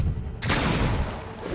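Sniper gunfire in a Spider-Man video game during a convoy fight: a short quieter lead-in, then a sudden loud, broad burst of shooting that carries on as a heavy, continuous rumble of fire.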